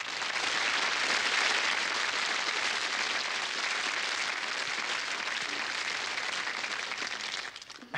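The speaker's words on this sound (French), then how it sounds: "Vous allez l'applaudir bien fort" A television studio audience gives a guest a strong, sustained round of applause, a thick, even roar of clapping that holds steady and then quickly dies away near the end.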